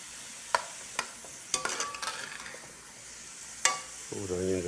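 Onions stirred while frying in a pot for crabmeat étouffée, several distinct spoon knocks and scrapes over a faint sizzle, with a brief voice-like hum rising at the end.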